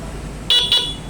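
Two short, sharp beeps from a Honda Fazzio scooter's horn set to its loud mode, the second following closely after the first, heard alone over a faint background hum.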